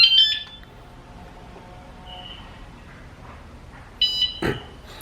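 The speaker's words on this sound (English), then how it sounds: "Right, you heard two beeps." Two short electronic beeps sound from a remote-controlled e-bike motion alarm, one at the start and another near the end, with quiet room noise between them.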